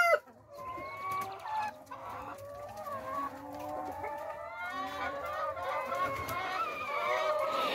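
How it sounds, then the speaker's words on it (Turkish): Several chickens on a free-range egg farm cluck and chatter close by in a steady, busy stream, with occasional sharper squawks rising over the flock. "Tavuklarımız yaylımı burada yapıyorlar."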